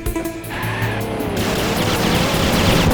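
A car braking hard in the Knight Rider 2 game, a loud sustained tire squeal and skid over engine rumble that lasts the whole moment, with no talk.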